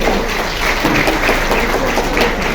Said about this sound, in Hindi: प्रतिभागियों के लिए मैं तालियों से स्वागत करना चाहूंगी